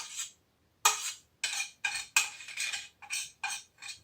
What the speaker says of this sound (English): I'm going to put it in a bowl so you can see